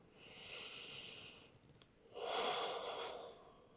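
Two slow breaths through the nose during a morning power yoga flow, a soft airy inhale and then a fuller exhale, close and quiet with no talking.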